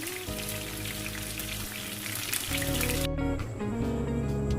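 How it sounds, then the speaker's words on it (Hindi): Chicken pieces for chicken Manchurian fry in oil with a steady, dense crackling sizzle that continues under tonal background music. "सारे चिकन को मैं इसी तरह फ्राई कर लूँगी।"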